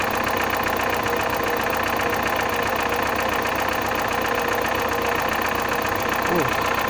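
Car engine idling, a steady close mechanical rumble with a constant rhythmic knock that holds evenly throughout with no variation in loudness.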